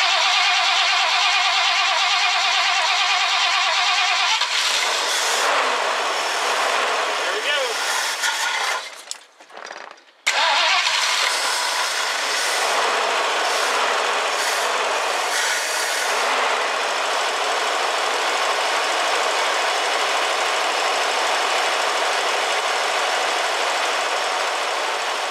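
A 1969 Ford Club Wagon van engine running loud and steady nearby, cutting out briefly partway through before roaring back and holding a continuous rough drone.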